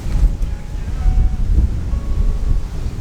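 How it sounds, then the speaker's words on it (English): Steady wind buffeting a microphone outdoors on a hillside golf course, a continuous low rumbling gusty roar that fills the whole short stretch with no clear voices. "Feels like the wind's kind of switching now."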